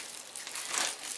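Crinkly bubble wrap around books rustles and crackles up close, a continuous scrunching that swells briefly before settling, with no talking.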